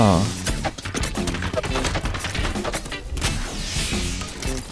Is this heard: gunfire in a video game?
yes